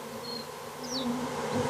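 A swarm of mosquitoes drones low over a West Siberian swamp, a faint, continuous whining hum with soft buzzing passes drifting by.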